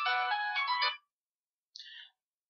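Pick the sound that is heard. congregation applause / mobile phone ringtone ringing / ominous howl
mobile phone ringtone ringing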